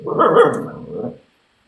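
A dog barks once in a long, loud growling burst, close by, alone and quickly fading to silence.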